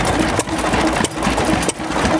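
Hit-and-miss engines run steadily at an outdoor tractor show, a dense, loud chugging drone with faint regular beats and brief dips every half second or so.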